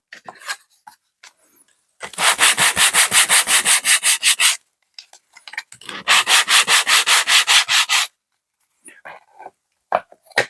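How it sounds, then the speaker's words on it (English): Hand sanding of MDF terrain building pieces, two loud bursts of quick, rhythmic back-and-forth rasping strokes, each lasting about two seconds, close to the listener, with short quiet gaps and a few faint knocks between them. "what I'm going to do is just give these a bit of a sand"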